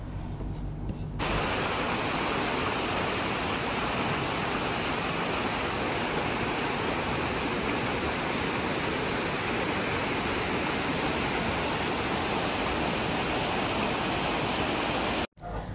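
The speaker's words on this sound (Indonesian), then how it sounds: "Berjalan di sisi Sungai Ciliwung ini sambil mendengar gemericik air" Continuous broadband rush of babbling water from the Ciliwung River stream flowing under shady trees, steady and close, alone with no voices, cutting off abruptly near the end.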